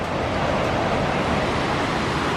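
Bruarfoss waterfall in Iceland pours in a steady, dense roar of rushing water, constant and moderately loud throughout with no break.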